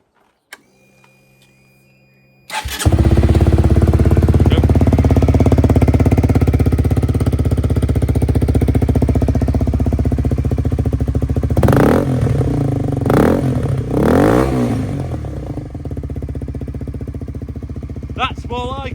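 A Honda CBR125R Repsol edition motorcycle fires up after a brief silence and settles into a loud, steady idle close by, with a few sharp throttle blips and revs rising over the engine drone toward the end.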